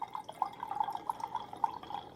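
Wine poured into a glass, a close, quiet liquid trickle with rapid bubbly drip-like splashes in an uneven rhythm, heard alone.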